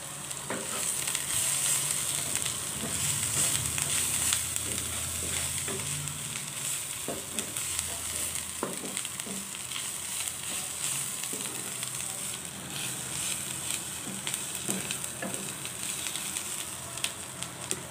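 Fried bitter gourd rings tossed and stirred in a frying pan give a steady, close sizzle with scraping spoon strokes throughout, no voices.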